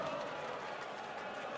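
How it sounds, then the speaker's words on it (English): A dense arena crowd at a Premier League Darts night roars and cheers continuously, a broad steady wash of voices filling the hall. "What a crowd, what an atmosphere here."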